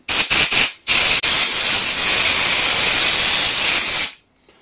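Compressed air from an aerosol can blasts dust off a PS4 Blu-ray drive in short bursts, followed by one long steady hissing spray that cuts off abruptly, loud and close.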